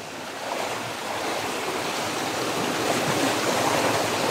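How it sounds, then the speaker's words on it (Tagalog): Heavy rain and rushing floodwater in a forest make a dense, continuous broadband roar, steady and fairly loud throughout with no voices. "sobrang lakas na ng ulan. Kaya yung tubig, mabilis din yung bagsak ng tubig."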